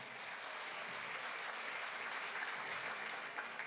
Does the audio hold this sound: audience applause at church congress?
yes